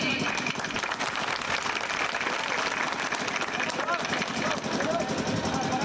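An election rally crowd at a Lok Sabha campaign meeting in Fatehgarh gives loud, sustained applause: dense clapping that fills the whole stretch, with a voice speaking over it.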